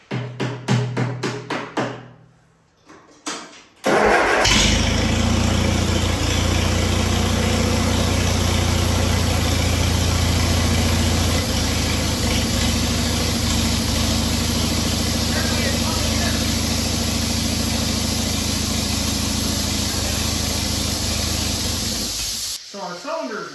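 A 1956 Air Tractor engine, some cylinders not firing, cranks and catches, then runs loud and steady with a hissing, rumbling drone for nearly twenty seconds before cutting out, with a voice briefly heard.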